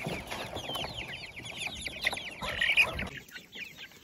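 Young chickens clucking and chirping inside a truck while being driven home, a dense continuous chatter of many birds close by with no talk.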